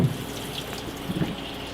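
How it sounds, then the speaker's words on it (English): Water splashes and pours out of an MFI HZ-40 centrifugal barrel finisher, a faint, continuous liquid trickle with small gurgles, heard alone. "dump out some of the water,"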